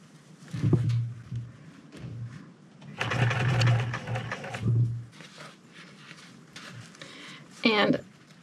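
A sewing machine stitching a seam on a fur bomber hat whirs in several short runs, the longest about two seconds, between pauses while a person talks close by.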